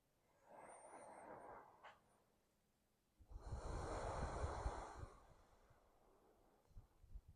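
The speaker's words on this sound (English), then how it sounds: "Maintaining your Ujjayi breathing throughout practice." Slow, audible Ujjayi breaths during an Ashtanga yoga practice, a soft hissing exhale followed by a longer, stronger breath through the throat, close and quiet with no talking.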